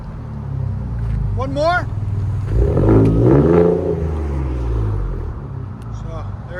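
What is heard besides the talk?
2019 Ford Raptor 3.5L twin turbo V6 exhaust with muffler delete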